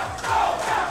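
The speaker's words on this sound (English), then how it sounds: "SoCal chants erupt in the crowd as the next round starts." A large crowd at a fighting game tournament chants together in a loud, sustained roar, filling the hall with massed voices and no single speaker audible.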